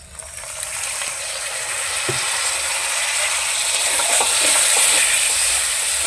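Water poured over spices frying in a pan for a vegetarian aloo dum gravy sets off a loud, steady sizzling hiss that swells and holds, with a few faint clinks.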